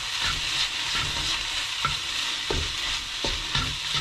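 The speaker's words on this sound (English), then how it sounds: "let's put the meat in here now. All right, mix that together there." Meat being stirred and frying in a pan for fried rice, a steady close sizzle with periodic scraping stirs every half second or so, no voices.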